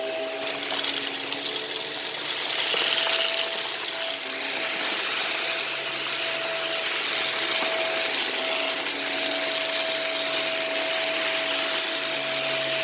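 A Hoover React Pro Pet vacuum cleaner runs on carpet with a loud, steady motor whine and airflow roar, close and continuous, swelling slightly as it passes over the pile.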